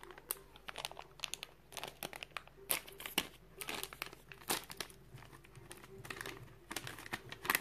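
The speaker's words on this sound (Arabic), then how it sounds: "وايضا هنا هذا الكيس مال القهوة اللي نشربها" A coffee bag is handled and crinkled close up, giving irregular bursts of sharp crackling and rustling with brief pauses between them and no talking.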